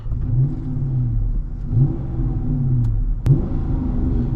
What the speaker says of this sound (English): Let's rev it up a little bit, guys.